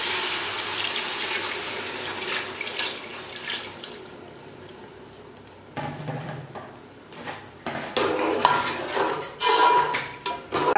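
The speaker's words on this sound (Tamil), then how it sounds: "இந்த புளித்தண்ணியை இந்த தாளிச்சி வேகிறதுல ஊற்ற" Tamarind water poured into a hot tempering for a fish curry in a home kitchen, a liquid splash and sizzle rising over steady background noise, with several louder bursts of pouring and stirring toward the end.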